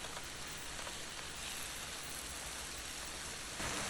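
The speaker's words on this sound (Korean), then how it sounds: "야채가 어느 정도 익었으면 다진 고기도 넣어주시고요. 어느 정도 갈색이 될 수 있도록 맛있게 볶아주세요." Vegetables and minced meat stir-frying in a pan with gochujang to follow, giving a steady, dense sizzle that stays close and even throughout.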